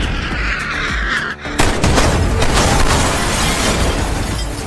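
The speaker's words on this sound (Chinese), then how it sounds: "连番的轰炸把司令的部队打得溃不成军" Film battle scene with an artillery bombardment and explosions, loud and dense, with a sharp burst and a continuous rumble of blasts and debris.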